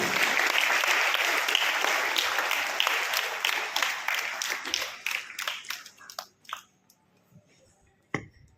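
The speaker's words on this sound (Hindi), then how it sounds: "कृपया प्रिंसिपल सर, प्रिंसिपल मैम, जोरदार तालियां एक बार करें।" A school audience gives sustained applause for a director being honoured, dense clapping that thins out into scattered claps and stops.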